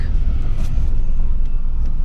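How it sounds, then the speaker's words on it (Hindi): Dense tourist traffic on a packed road near Shimla, with a steady loud rumble of car and bus engines idling and creeping close by and no clear voices. "ये सारा टूरिस्ट का ट्रैफिक है।"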